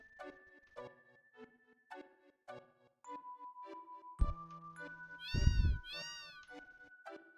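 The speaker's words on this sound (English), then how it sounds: "Oh, kitty cat." A cat meows repeatedly inside the Final Fantasy 7 video game, several short harmonic cries with gaps between them, ending in two louder, drawn-out meows over a low game tone.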